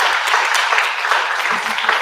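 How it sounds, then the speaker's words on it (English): Audience applause at a live pitch event, a loud, close, dense burst of many people clapping that fills the whole short moment without letting up. "give a round of applause for Chris."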